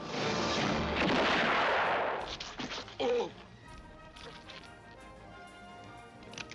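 A loud, sharp gunshot blast from a western film with a booming tail, followed by quieter scattered pops and a lingering ambient hum.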